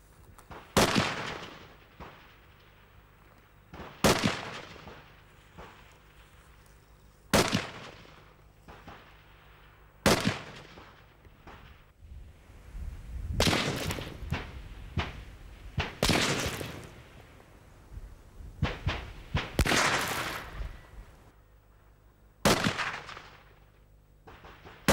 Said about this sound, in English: it took 10 or 11 shots to penetrate the wall fully